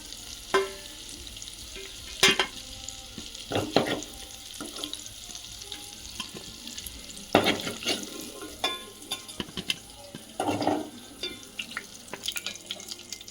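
Dried fish frying in a pan gives a soft, steady sizzle, broken by intermittent scraping stirs and louder clinks against the pan.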